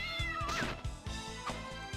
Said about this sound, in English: I'm peppering you with kittens.